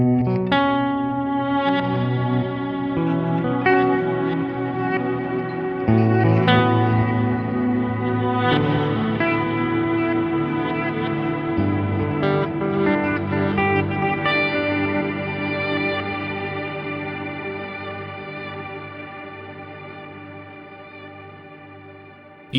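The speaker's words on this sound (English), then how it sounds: "Prism is a dual tank reverb with a wide-ranging control set" Sustained guitar chords wash through a lush, shimmering dual-tank Prism reverb with reverse predelay from a Meris MercuryX pedal, swelling and layering before slowly fading toward the end.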